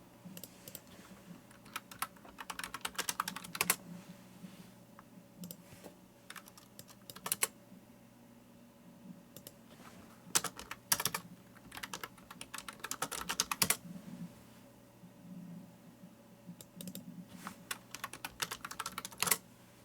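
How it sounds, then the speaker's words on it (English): Keys clatter on a computer keyboard in irregular bursts of rapid taps, with short pauses between runs. The typing is close but fairly quiet over a low room hum. "let me type the name"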